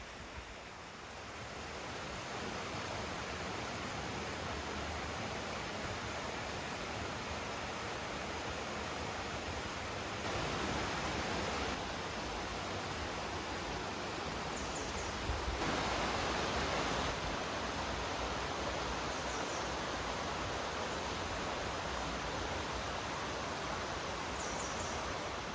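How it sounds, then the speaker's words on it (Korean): Yongchu waterfall, part of a three-tier falls along a volcanic trekking route in Korea, pours steadily into its plunge pool, a dense, unbroken roar close by that holds constant for the whole stretch with slight swells. "용추 폭포입니다."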